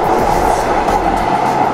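Expo Line light rail train running on new track between Culver City and Santa Monica, a loud continuous rumble with a steady mid-pitched hum, heard from on board.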